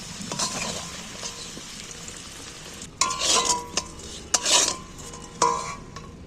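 Fried potatoes lifted one by one from a pan of hot oil, a low sizzle under scraping and clinking of a utensil against the pan, with several sharper knocks in the second half.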